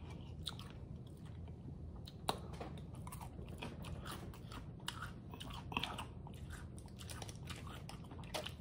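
Crunchy homemade tacos being bitten and chewed up close, with repeated crisp crunches over steady wet mastication noise and no talking.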